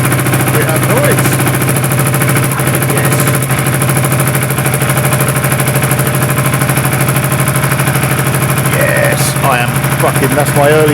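An Aprilia Shiver motorcycle engine runs loud and close after starting, holding a rough, rapid idle throughout with a faint voice barely audible over it.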